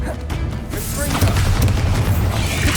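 Fiery Confringo spell burst in Hogwarts Legacy, a deep swelling boom that builds and rumbles loudly through the latter half, with a voice calling out over it.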